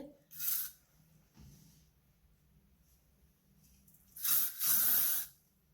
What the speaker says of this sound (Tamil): கொஞ்சம் ஸ்ப்ரே பண்ணி